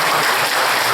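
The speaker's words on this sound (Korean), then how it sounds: "다시 한 박수로" Applause from the audience at a current-affairs lecture by Dr. Lee Choon-geun, a loud, dense burst of clapping heard briefly and alone.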